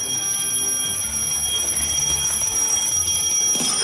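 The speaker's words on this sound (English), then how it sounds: "you need to make sure at least one alarm is ringing by the end of the challenge" A bell alarm rings continuously, a bright, steady metallic ringing that fills the whole moment with no voices over it.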